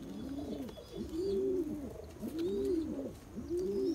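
Nagpuri Girebaz pigeon cooing in a steady repeating pattern, three rolling coos close to the microphone with faint chirps from other birds behind.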